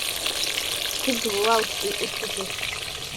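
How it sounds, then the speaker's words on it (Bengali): Whole eggplants fry in hot oil with a steady, bubbling sizzle, while a brief voice and faint background chatter come through midway. "বেগুন ভাজা হচ্ছে"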